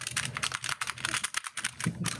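Rapid, clattering keystrokes on a loud computer keyboard, close and crisp, in quick irregular bursts with no talking.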